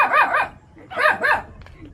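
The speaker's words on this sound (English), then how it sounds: "Barks just like mommy." A dog barks in two quick pairs of sharp, close barks, loud and clear, with a faint whimper at the end.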